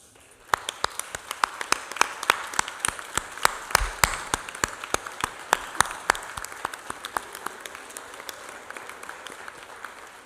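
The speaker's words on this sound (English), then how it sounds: "So everyone, please help me give them a round of applause." A convocation audience at Lehman College applauds faculty and staff, a steady crowd of clapping hands with sharp individual claps standing out, sustained and fairly close for about ten seconds.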